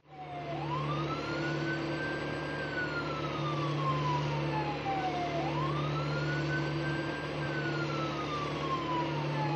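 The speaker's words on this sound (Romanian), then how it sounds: "Camion de pompieri." A fire truck siren wails steadily and loudly, rising and falling in long sweeping cycles over a constant engine drone.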